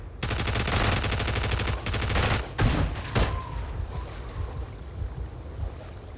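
Rapid automatic gunfire from the Space Engineers game, loud sustained bursts of dense rattling shots for about two and a half seconds, then a few isolated blasts fading into a low rumbling ambience.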